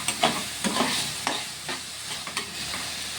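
A spatula scrapes and stirs mushroom curry frying in a pan, giving repeated rhythmic scraping strokes over a continuous close sizzle, with no voices.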